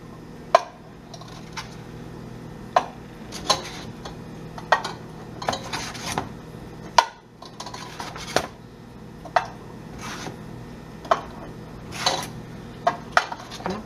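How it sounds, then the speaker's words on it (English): Uncooked eggs being set into a cooker pot for hard boiling, each one landing with a sharp clink or tap. About a dozen separate knocks arrive at irregular intervals over a soft steady background hum. "I need to get these eggs put into my cooker pot."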